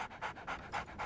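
Rhythmic dog panting from a small dog in the game Sherlock Holmes: The Awakened (remake), four quick even breaths, close and clear with no talk.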